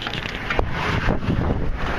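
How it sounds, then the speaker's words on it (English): Gust of wind buffeting the microphone outdoors, a close, roaring rumble that swells and churns for a couple of seconds with no other sound over it. "Whoa, gust of wind."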